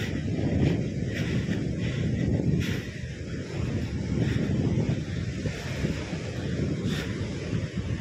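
Strong ocean waves and wind at a Libyan shoreline, a continuous low roaring wash of surf with heavy wind buffeting the microphone, steady and loud without a break and no voices.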